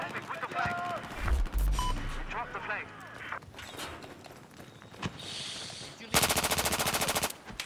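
Bursts of automatic gunfire and single shots in a Battlefield 4 capture-the-flag match on the Propaganda map, with a loud sustained burst near the end, mixed with game effects and a player talking over it.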